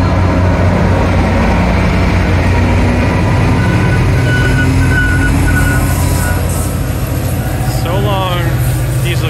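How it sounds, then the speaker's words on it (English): A Caltrain train at a station platform during an electric-service open house rumbles with a heavy, continuous low engine drone, close and loud, with faint tonal signals over it and a voice talking near the end. "This train is leaving from the southbound platform going north."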